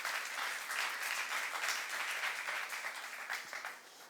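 Church congregation applauding during a youth service sermon, a dense, steady wash of clapping heard at moderate distance without pause.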